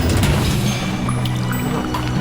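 Boiling water poured onto a dirt floor in the game West of Loathing, a loud continuous splashing, sizzling pour over low background noise.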